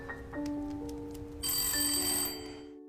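A telephone rings in a police station, first as a few clear electronic bell tones, then a louder, brighter burst of ringing that fades out at the end.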